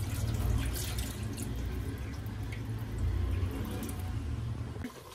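Water from soaked rice pours and splashes steadily into a sink in a home kitchen, a continuous near running-water wash lasting throughout with no talking.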